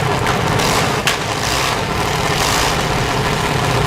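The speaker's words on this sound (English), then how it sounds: "Hear a little more pop and cackle on the engine now." A junior dragster engine runs loud and steady at close range at a drag racing event, its rough idle crackling and popping throughout.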